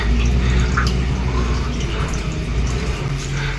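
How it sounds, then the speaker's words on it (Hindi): Water drips from rock inside a hillside cave near a Durga temple at Haldighati, Rajasthan, scattered soft drops falling over a steady, dense wash of background noise. "ये पानी भी टपक रहा है यहाँ से"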